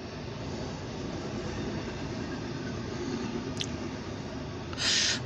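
A CSX intermodal freight train rolls past heading west, a continuous loud rumble of wheels and cars on the rails with a faint squeal of wheels near the end.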